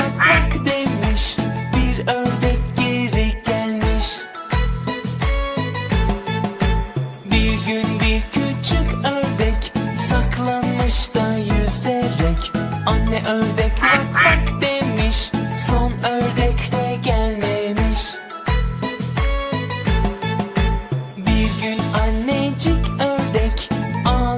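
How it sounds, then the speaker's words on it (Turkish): Quacking from ducks in a children's counting song about five little ducks, set against continuous loud music with a steady beat throughout. "Anne ördek"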